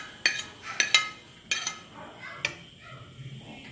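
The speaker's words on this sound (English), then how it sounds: "All you have to do is to mix everything" A spoon strikes and scrapes a bowl while macaroni salad is mixed with cheese in a home kitchen, with several sharp clinks early on and then softer stirring sounds.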